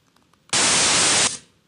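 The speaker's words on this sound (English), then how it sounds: "If you can compare that to the white noise" A burst of generated white noise, a flat, steady hiss that starts abruptly, holds for under a second, then cuts off with a brief tail, loud against near silence.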